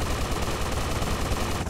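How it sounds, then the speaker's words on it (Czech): Rapid automatic gunfire in GTA Vice City, a dense continuous burst of shots fired at a boat, loud and close for under two seconds with no talk. "Ten debil si střílí do vlastní lodi."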